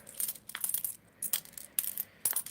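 Several small copper coins dropping one after another onto a hard surface, in about five quick clattering bursts with brief pauses between, close and fairly quiet with no talking.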